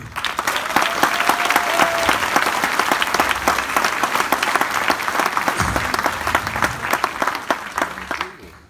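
Enthusiastic applause from a conference audience, dense rapid clapping with sharp individual claps standing out, loud and sustained for several seconds with a few voices mixed in.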